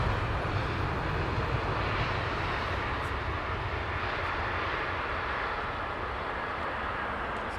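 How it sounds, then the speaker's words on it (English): Jet airliner engine roar at London Heathrow Airport as an inbound plane comes in to land, a loud, steady broadband rumble held for the whole stretch with no talking. "A few seconds before the next inbound aircraft comes in."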